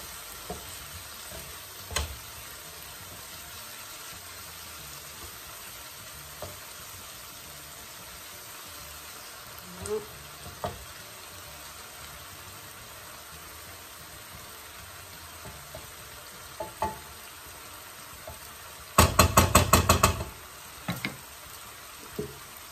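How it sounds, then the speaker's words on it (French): Wild asparagus with spices simmering in a pan, a steady soft sizzle that runs throughout with a few light clinks and a brief burst of rapid stirring knocks near the end. "on laisse mijoter pendant 5 minutes."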